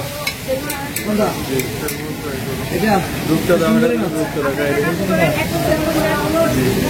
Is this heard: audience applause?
no